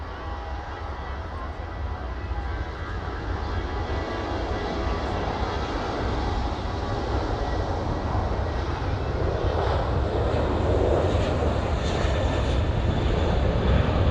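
A cargo airplane takes off from the runway at East Midlands Airport in the evening, a broad, steady engine roar that swells gradually and stays loud throughout, with faint talk underneath.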